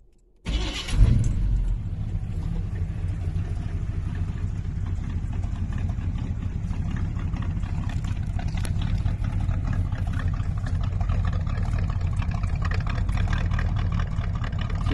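A 1979 Chevy C10 pickup with a 350 V8 and 350 turbo transmission cranks and catches in a short burst, then settles into a steady, rumbling idle that carries on alone for over ten seconds.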